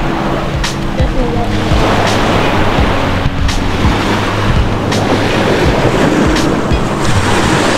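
Loud sea waves surge and wash steadily against the shore with heavy wind buffeting the microphone and a low engine-like drone underneath, while people talk faintly beneath the roar.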